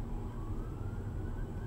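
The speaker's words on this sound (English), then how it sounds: "I'm hearing cop cars. That's a chase." A police car siren wails from a distance during a chase in Arvada, its tone slowly rising over a low rumble of heavy traffic.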